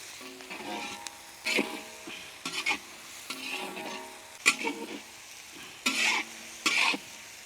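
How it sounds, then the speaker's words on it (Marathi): Mixed vegetables, including pumpkin, bitter gourd, cucumber and cauliflower, sizzle in a pan as a utensil stirs and scrapes them in repeated short strokes, moderately quiet and close. "व्यवस्थित आपण परतून घेऊ पाच मिनटं"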